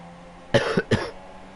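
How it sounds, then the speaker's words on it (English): A race commentator, still ill, coughs twice in quick succession, close to the mic, with quiet hum before and after. "I'm sorry for my cough"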